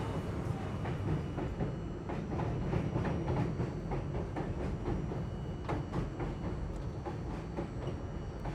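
A New York City subway car on the J line rolling along the track with a steady low rumble and repeated clickety-clack of wheels over rail joints, heard from inside the moving train.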